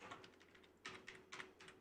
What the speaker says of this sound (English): I just want to apologise for this extremely noisy keyboard